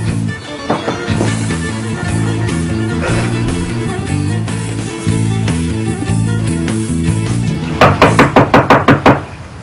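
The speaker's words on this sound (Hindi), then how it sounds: "10 मिनट से खटखटा रहा हूं, दरवाजा नहीं खोल रही हो।" Knocking on a door in a drama scene, a quick run of about eight sharp raps near the end, heard over loud tense background music.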